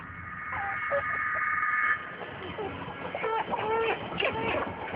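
Free-range chickens scratching around in outdoor grass cluck and call repeatedly, a busy cluster of hen vocalizations close by, with one sustained squawk early on followed by choppy overlapping clucks.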